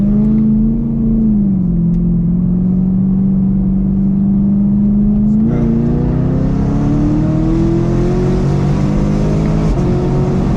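Supercharged Chevrolet Camaro SS at wide open throttle, engine note climbing steadily through the gears with shift breaks, loud and continuous from start to finish.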